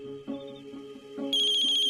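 A phone ringtone in a Marathi TV serial plays a steady electronic tone pattern, then rises into a brighter, louder repeating trill, with no talking over it.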